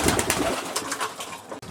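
Racing pigeons in a loft, soft repeated cooing and rustling near at hand, a steady murmur of birds with no talk.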